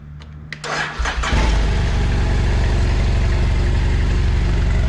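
A 2016 BMW F800GS Adventure motorcycle engine, with its catalytic converter removed, cranks briefly, catches, and settles into a loud, steady idle close by.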